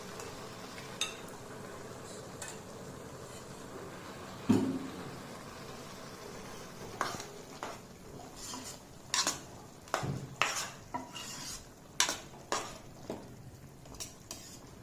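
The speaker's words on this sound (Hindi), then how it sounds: "सारे मसाले जो है इस तरह से इनकी भुनाई करेंगे" Spices being roasted in a pan and stirred, with scattered clinks and scrapes of a utensil against the pan that grow more frequent toward the end, over a faint background hiss.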